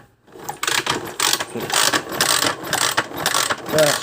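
An old Honda motocross bike is kicked over repeatedly, a series of close mechanical ratcheting bursts as the kick starter turns the engine without it catching.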